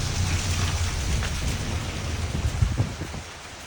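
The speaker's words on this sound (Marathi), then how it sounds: "पाऊस काय पिचा सोडत नाही आमचा." Steady rain pours down, forming a continuous hiss of dense drops with a low rumbling undertone and a few louder splashes near the end. No voices.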